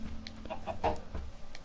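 A chicken in Minecraft clucks a few short, faint clucks in quick succession over a low background hum, with no talking.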